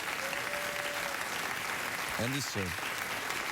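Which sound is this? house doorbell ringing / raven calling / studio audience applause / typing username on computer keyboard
studio audience applause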